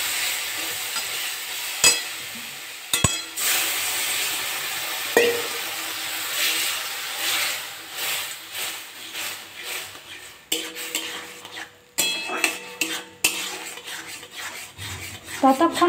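Semolina stirred with water in a pan, with repeated scraping and rasping of a utensil against the metal over a steady sizzle, close and fairly loud, the strokes growing more uneven as the mixture thickens, no speech.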